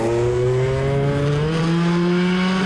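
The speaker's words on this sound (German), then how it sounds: "Ich glaube, da ist die Kupplung durchgerutscht." Small moped engine revving hard and steadily at a moped race, pitch climbing slowly as the clutch slips, loud and continuous with no speech.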